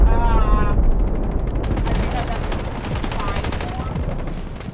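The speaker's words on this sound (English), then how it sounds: "Artillery barrage incoming" An artillery barrage pounds in the Delta Force video game, a dense continuous roar of overlapping blasts and rapid rattling fire, loud and steady throughout, with voices talking over it.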